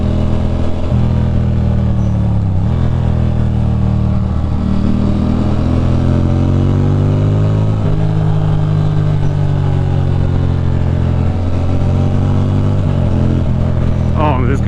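A Ducati Monster 620 motorcycle engine drones continuously while riding on a road, its loud steady note rising and falling as the revs shift, with rushing wind throughout.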